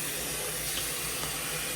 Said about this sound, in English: Add a little bit of water there.